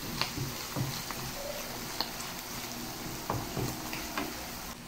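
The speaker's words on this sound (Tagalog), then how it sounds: "hayaan lamang itong kumulo for 1 to 2 minutes" Tofu bopis with calamansi simmering in a pan, a low continuous bubbling hiss broken by occasional soft ticks and utensil clinks, close and fairly quiet with no talking.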